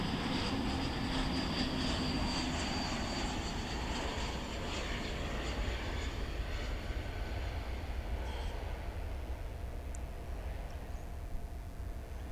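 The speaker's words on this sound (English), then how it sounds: "And here comes another plane from Seattle. It's Flight 1596, an Airbus A321" An Airbus A321 airliner arrives at DFW airport in fog, a continuous broad jet roar heard from a distance that slowly fades over about twelve seconds.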